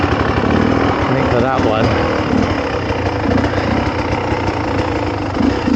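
A dirt bike engine idles steadily and close by on a forest trail, its loud mechanical rumble running throughout while someone talks over it.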